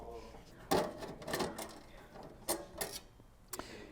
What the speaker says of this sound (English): So we'll go ahead and start unscrewing and removing these completely.